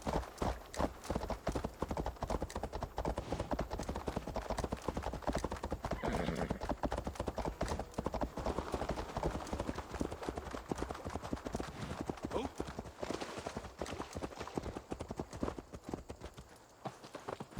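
Horse hooves clip-clop steadily through a ride in the video game Assassin's Creed Valhalla, during the Siege of Paris expansion set in France. The galloping rhythm runs close and continuous for the whole stretch, with occasional whinnies and faint talk underneath.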